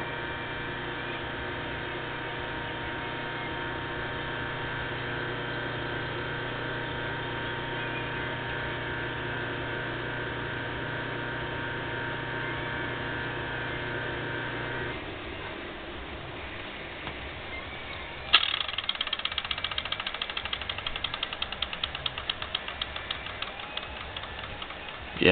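A 1/4 hp electric motor hums steadily with a mechanical whine, then shuts off and winds down, followed by a clattering, rattling burst near the end.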